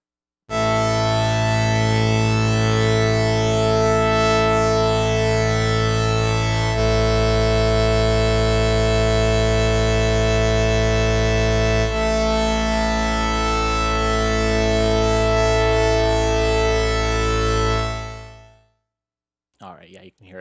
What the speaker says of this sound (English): I'll start with the voice component modeling on this time, and then I'll swing in the more static sounding raw oscillators